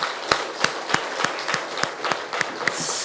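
Congregation in a Sunday church service clapping in thanksgiving, heard as a slow, steady series of about ten evenly spaced, sharp claps, fairly close and moderately loud, with no talk over them.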